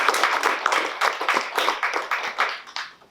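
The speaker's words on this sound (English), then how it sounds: "let's take a round of applause for this guy" Applause at a September 11 event honoring first responders and military personnel, a modest group clapping in quick uneven bursts that fade out after a few seconds.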